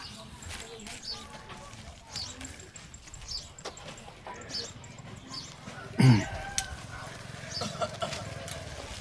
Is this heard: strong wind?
no